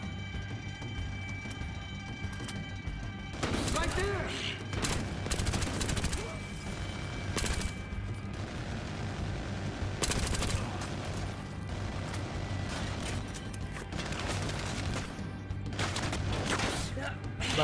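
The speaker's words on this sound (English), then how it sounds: "Okay, he has a machine gun" Bursts of automatic machine gun fire from the video game Battlefield Hardline rattle out repeatedly in sharp volleys, loud and close, amid game ambience with players talking over the action.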